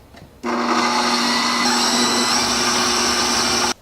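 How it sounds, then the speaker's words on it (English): An electric mixer beats butter and sugar at medium speed, starting abruptly with a steady loud whirring drone that holds evenly for about three seconds, then cuts off sharply. "Now we are gonna put these in the mixer. We're gonna beat them on a medium speed until they're nice and fluffy."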